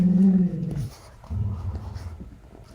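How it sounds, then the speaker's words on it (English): Pet dogs fighting in play give a close, loud burst of growling and snarling that dies down briefly and then returns as lower rumbling growls. "that's my dogs. They're fighting, playing, really."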